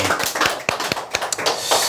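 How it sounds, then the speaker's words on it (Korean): Applause from a small audience at a sales coaching seminar, a quick run of close, sharp hand claps with an uneven rhythm, lasting about two seconds. "네, 박수"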